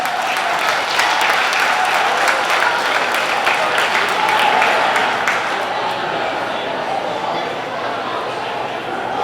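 A crowd at a speedway awards banquet at Wichita Union Stockyards applauds in a dense, steady, loud roar of clapping that thins slightly near the end.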